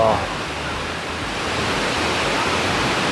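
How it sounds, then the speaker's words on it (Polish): Steady, dense roar of rushing water from a waterfall in Postojna Cave, Slovenia, filling the space, broad, continuous and echoing nearby, with faint voices underneath. "tam pod spodem jest wodospad"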